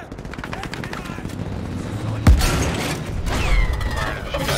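Gunfire in the Battlefield 5 video game: a sharp, loud shot stands out near the middle over a dense, steady backdrop of battle noise, with rumbling impacts and a whistling sweep toward the end.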